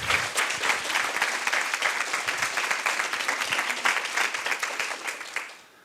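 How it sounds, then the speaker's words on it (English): An audience at a university sustainability awards ceremony gives a round of applause, steady dense clapping from a crowd in a hall that fades out at the end. "just a round of applause."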